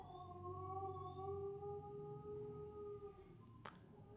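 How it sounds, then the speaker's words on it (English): Dogs howl outside during an indoor yin yoga session, a faint, distant, sustained wavering tone that holds steady for several seconds, followed by a brief sharp click near the end. "there is some dogs outside, and don't be distracted by the noises"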